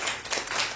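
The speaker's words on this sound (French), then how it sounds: "Acclamez pour lui" An audience applauding a manager at an indoor gathering, a dense burst of many hands clapping close by, steady and brief.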